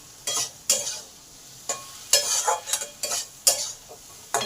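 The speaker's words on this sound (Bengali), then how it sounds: "হলুদ আর লঙ্কাটাকে ভালো করে কষে নেব।" Turmeric, chilli and tomato being stir-fried in a pan for a prawn curry: repeated bursts of spatula scraping over a low sizzle, irregular and close, with no voices.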